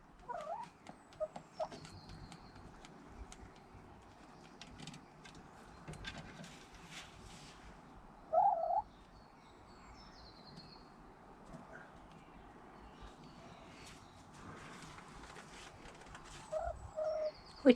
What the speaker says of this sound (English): We've had the dusk chorus, the birdies are settling down, the wild birds